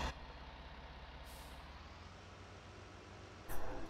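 A farm vehicle drives in the video game Farming Simulator 19, a low steady engine drone with a short burst of air hiss near the start and another near the end, faint and even, no voices.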